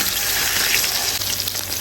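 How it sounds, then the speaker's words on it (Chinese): A short burst of loud, close sizzling as beef steak fries in a hot iron pan, a dense hiss with no voices. "这锅煎牛排得劲了"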